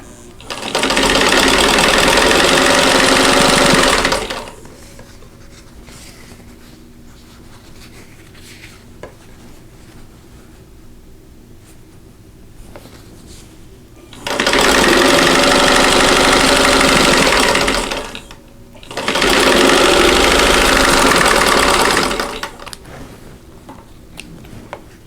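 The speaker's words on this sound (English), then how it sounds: "I'm going to turn around and sew a square to the other side." A sewing machine stitches a quilt block in three loud, close bursts of rapid whirring, each running a few seconds with quieter gaps of room hum between them.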